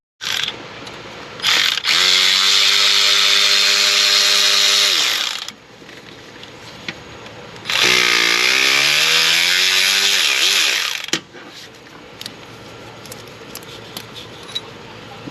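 A power tool pulls the studs out of an engine during a major service, with two long, loud whirring runs of several seconds each, close by, and short bursts and clatter between them.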